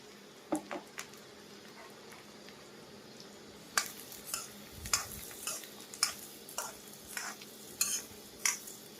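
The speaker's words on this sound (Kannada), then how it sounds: "ಫಸ್ಟಿಗೆ ಏನಪ್ಪಾ ಅಂದ್ರೆ ಧನಿಯಾನ ಹುರಿತೀನಿ ನಾನು." Coriander seeds are dry-roasted in a pan for a North Karnataka spice mix, with soft scraping and clicking strokes of a spoon that recur every half second or so over a faint low sizzle, quiet and close.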